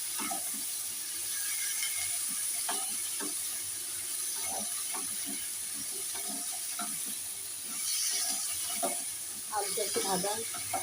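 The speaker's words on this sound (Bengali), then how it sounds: "আমি এবার আলুটা একটু ভেজে নিচ্ছি।" Potatoes for a white potato curry fry lightly in a pan with a soft, steady sizzle, broken by scattered scraping and tapping as they are stirred; a voice briefly joins near the end.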